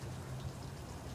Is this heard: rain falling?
yes